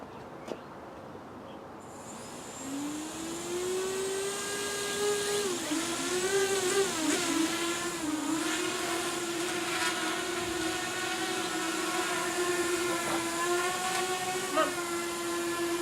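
OnPoynt 220 quadcopter drone motors spin up outdoors into a high whine that wavers and settles into a steady tone, loud and close, with some talk alongside.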